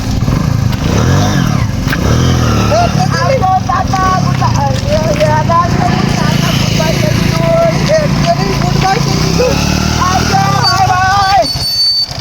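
A motorcycle engine runs steadily and loudly through a rural outdoor scene, with a continuous low drone. People talk over it almost the whole time.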